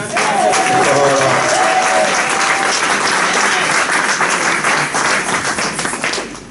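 Church congregation applauding loudly and continuously for several seconds, dense clapping from many hands with some voices mixed in, fading slightly toward the end.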